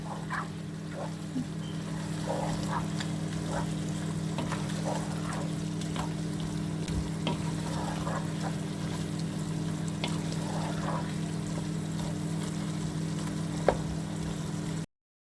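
Spinach and potatoes sizzle and crackle softly in a pan, with small scattered pops over a steady low hum throughout.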